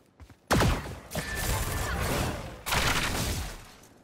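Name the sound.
Neon ultimate ability firing in the video game Valorant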